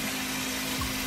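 Shower water runs steadily while curly hair is washed, a continuous close rush of spray with a faint hum beneath it.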